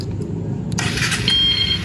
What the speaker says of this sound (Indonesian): Itu nyala, jadi tanpa harus mengengkol atau dekat tombol starter, motor sudah bisa nyala dari remote tersebut.